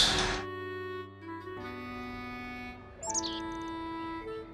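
Swallow chirping in the video game Trails Beyond the Horizon, a few bright, quick chirps heard alone over a steady ambient musical background.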